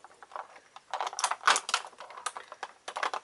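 Scissors snipping and scraping at plastic packaging and tags on a Target-exclusive Yo-kai Watch vinyl figure three-pack, a run of close, crisp, irregular clicks and cuts with no talking.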